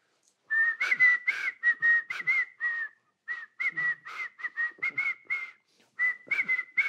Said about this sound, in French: donc tu sais même pas ce que tu siffles.